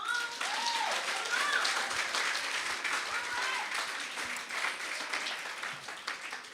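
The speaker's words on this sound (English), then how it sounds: "Give yourself a round of applause for making it this far." A seminar audience at a women in business event claps for themselves, a steady wash of applause with cheering voices and whoops rising over it, gradually tapering.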